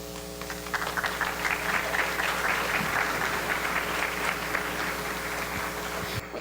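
Audience applause after a speaker's introduction: dense, steady clapping from a crowd fills the whole stretch at an even level, tapering slightly near the end.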